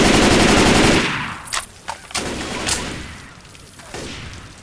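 Gunfire in Left 4 Dead 2: a loud sustained burst of rapid automatic fire opens, then several sharp separate shots crack out over a fading ambient background.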